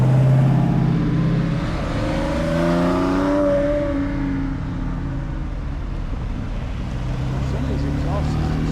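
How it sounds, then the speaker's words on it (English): Loud Porsche exhaust with quad tips rumbles and revs nearby during a parade, rising in pitch as the engine accelerates, with people talking over it. "Some of these exhaust systems sound good."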